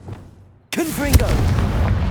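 A Confringo fire spell in Hogwarts Legacy bursts after a near-silent pause, a loud sudden blast followed by crackling, rumbling fire and swooshing effects, with a voice speaking over it.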